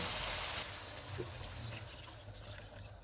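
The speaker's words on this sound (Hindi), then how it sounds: "अब इनमें 5 गिलास पानी डालेंगे।" Water pours into a pot of fried minced meat and chickpeas with a soft splashing rush, louder at first then settling into a gentler trickle.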